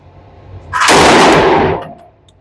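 A pistol fired at an outdoor range with iron sights, a loud roaring burst of shots run together for about a second, then a fading echo and quiet.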